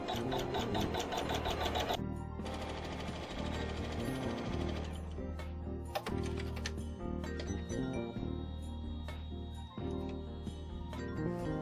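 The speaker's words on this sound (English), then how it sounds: "we're going to let the machine stitch the tack down stitch for fabric 1" Embroidery sewing machine stitching a tack-down stitch on quilt-block fabric, a rapid mechanical needle chatter that runs steadily with brief changes in pace, close and alone with no talk.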